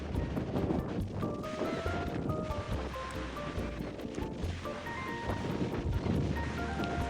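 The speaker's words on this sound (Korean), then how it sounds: "바람 진짜 많이 불죠" Strong wind blows outdoors near Melbourne, a steady, loud roar with rough buffeting that keeps up without a break the whole time.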